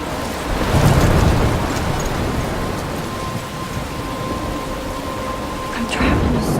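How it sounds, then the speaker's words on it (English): A video-game thunderstorm in Life is Strange, with heavy rain hissing steadily and deep thunder rumbling loud at the start and again near the end. "I'm trapped in a storm?"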